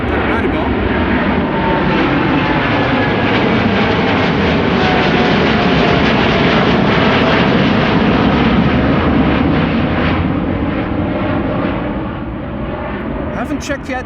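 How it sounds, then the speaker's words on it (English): Airbus A340-600 taking off at Amsterdam Schiphol on a sunny day, a loud, sustained jet engine roar filling the whole stretch, steady and broad before easing slightly toward the end. "If all is well, in around 5 minutes or so, the 340-600 should take off."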